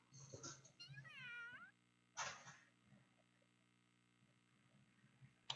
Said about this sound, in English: Such cute kitty cats.